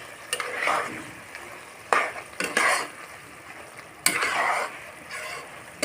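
Rice flour paste is stirred into frying ash gourd cooked with a fish head, heard as three separate bursts of scraping and sizzling in the pan, close and fairly soft, with quiet pauses between.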